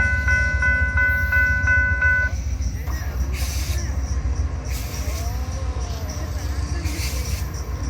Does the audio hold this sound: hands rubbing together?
no